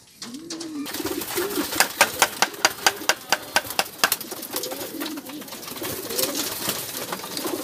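Racing pigeons in a loft being fed, with soft low coos running throughout and a quick series of sharp clicks, like pecking at grain, in the middle.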